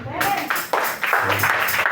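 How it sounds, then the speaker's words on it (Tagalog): A church congregation claps for the Lord in a burst of loud, close applause, with voices sounding over the clapping. "Isa pong mataas sa palakpak kay Lord."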